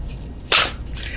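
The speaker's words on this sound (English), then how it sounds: "I cannot shuffle these cards" Tarot cards snap in one brief, sharp papery burst while being shuffled, loud and close against a quiet background.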